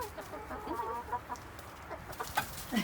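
Chickens cluck and fuss inside a backyard coop, a steady overlapping chatter of soft clucks from several hens at close range, with a few sharper calls toward the end and no talk.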